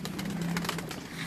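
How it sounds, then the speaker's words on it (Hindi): Paired pigeons on a rooftop give low, soft coos under a steady wash of background noise. "ये बेसिकली जोड़ा वाले कबूतर हैं"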